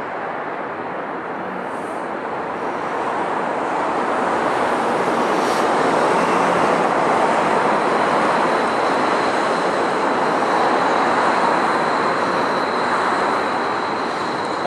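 A streetcar rolls past on a city street, a loud broad rumble that swells after a couple of seconds and holds steady, with no talk.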